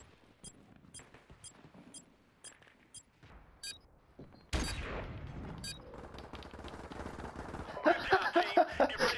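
Gunfire in a Call of Duty 4 Prop Hunt match: scattered single shots at first, then a louder burst and sustained rapid automatic fire building toward the end, fairly close.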